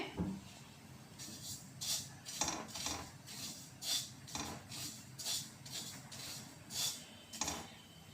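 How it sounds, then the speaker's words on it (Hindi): Poppy seeds dry roasting in a pan, with a utensil scraping and stirring them in steady, repeated rasping strokes about every half second, close and moderately loud. "अब अलसी के बाद मैं खसखस को ड्राई रोस्ट कर लूँगी।"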